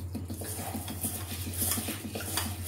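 Basmati rice is washed in a pot, a close wet swishing and churning with light rhythmic scraping against metal, steady and moderate over a low hum.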